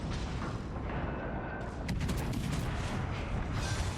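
Naval gunfire from the Omaha cruiser in World of Warships: Legends, a continuous dense rumble of booming shell salvos with sharp cracks layered throughout, loud and close with no talking.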